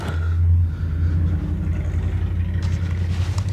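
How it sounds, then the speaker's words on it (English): A car passes in the background, a low engine rumble that swells briefly then settles into a steady hum. "Listen to that car in the background."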